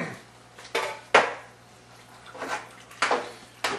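Diced tomatoes stirred into homemade chili in a pot, a spoon scraping and clanking against the pot in several irregular strokes, close and fairly quiet.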